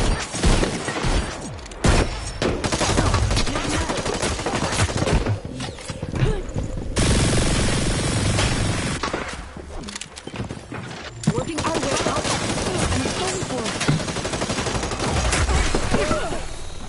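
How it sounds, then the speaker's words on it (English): Gunfire in the battle-royale game Hyper Scape, dense loud bursts of rapid automatic shots and fusillades that keep going with only brief pauses, with a player voice talking over the shooting. "Who's shooting?"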